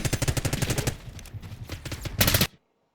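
Rapid automatic weapon fire in Call of Duty: Black Ops 6, a quick string of loud shots, a short pause of lighter fire, then a final dense burst that cuts off abruptly.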